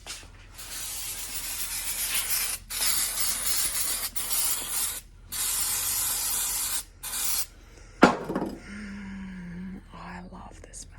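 Aerosol brake cleaner sprayed in repeated long bursts in a workshop at night, a loud close hiss broken by short pauses, followed by clattering handling sounds and a brief voice near the end.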